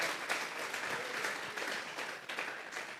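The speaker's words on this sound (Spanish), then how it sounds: "Vamos a regalarle otra ofrenda de palmas al Dios de la gloria." A church congregation claps together in sustained applause during a worship service, a dense, steady wash of hand claps with no talking over it.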